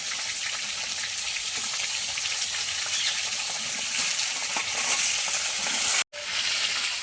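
Potatoes and pointed gourd fry in hot oil with a steady, dense sizzle that runs throughout, close and even, with a brief drop near the end.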